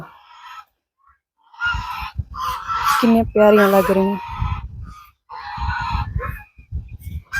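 Ducks honk in a village in Punjab, a close, fairly loud burst of calls in the middle with people talking before and after.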